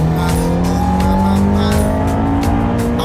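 Race car accelerating at full throttle on a track, a loud, close engine roar with rising revs through gear changes and brief tyre squeal, no voices over it.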